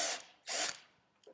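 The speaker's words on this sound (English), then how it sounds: "it's nice to give it a nice countersink here so the screw can easily find where it belongs." Drilling bit countersinking a screw hole in a metal hospital plate for a horse's hoof, two short whirring bursts with a faint third at the end, close and alone.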